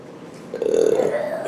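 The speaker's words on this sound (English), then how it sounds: "I had a burp, but it won't come up." A single person lets out a short, close burp lasting under a second, preceded by a brief quiet pause.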